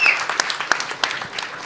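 An audience at a launch event breaks into brief, lively applause, a crisp patter of many hands clapping at once.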